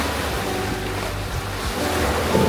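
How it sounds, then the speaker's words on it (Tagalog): Strong waves break on the Bantayan Island shore, a continuous loud roar of surf with wind buffeting the microphone and no voices. "Medyo malakas yung alon."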